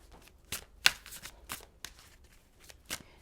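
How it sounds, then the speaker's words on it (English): Tarot cards are shuffled close up in a quiet room, giving soft papery riffles and crisp slaps in an irregular run of short bursts, one sharper snap standing out, with no talking. "I feel called to shuffle and we'll get the last row"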